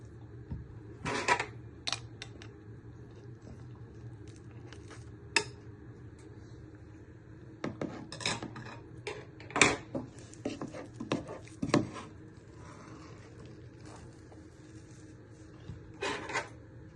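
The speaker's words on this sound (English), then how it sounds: "Now you just want to spoon your mashed potatoes on." Mashed potatoes are spooned onto a meatball and vegetable casserole, giving soft scattered scrapes and taps of a spoon against the dish with quiet pauses between.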